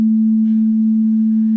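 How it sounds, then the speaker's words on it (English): A pure sine wave tone generated by Nintendo Game Boy audio emulation written in Elm, a single steady, unwavering pitch held loud and constant for under two seconds, with nothing else heard. "This is a sine wave."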